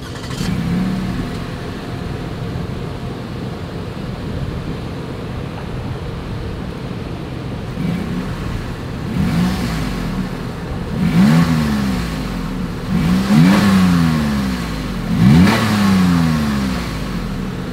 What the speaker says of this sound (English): Here is that exhaust clip.